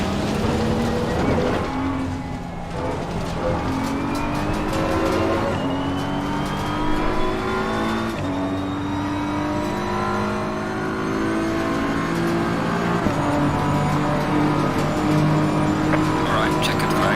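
BMW M4 GT3 race car engine in Assetto Corsa Competizione revs loudly through repeated upshifts and downshifts, pitch climbing and dropping continuously, with occasional tire noise and someone talking over it.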